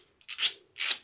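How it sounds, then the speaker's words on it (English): A plastic orthodontic aligner tray is filed down by hand, two close rasping strokes of high, scratchy friction, each swelling and fading, in an otherwise quiet room. "So I'm going to file mine down."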